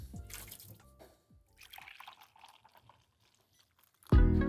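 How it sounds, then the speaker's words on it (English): Rinse water from a pour-over coffee filter being poured out, a brief splashing trickle and drips followed by a louder rushing pour near the end. "Remember to pour out your rinse water."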